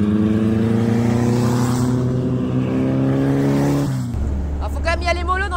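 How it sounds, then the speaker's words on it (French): An original 1957 Meyers Manx beach buggy drives along with a steady, loud engine drone and harmonic hum that drops in pitch near the end, with a voice speaking briefly over it. "j'ai quand même la chance de rouler dans une beach buggy de 1957. Une originale Meyers Manx."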